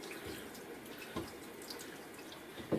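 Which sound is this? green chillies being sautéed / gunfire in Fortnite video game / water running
water running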